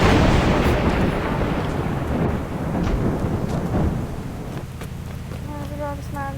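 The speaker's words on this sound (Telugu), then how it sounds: "అరే హర్షణ ఇదేంటి ఎంత వర్షం పడుతుంది?" In the video game Indian Bike Driving 3D, loud rolling thunder and heavy rain roar dominate for about four seconds, then ease to a softer rain hiss as a short tonal chime pattern enters near the end.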